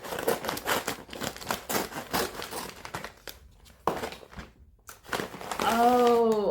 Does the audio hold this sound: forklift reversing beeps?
no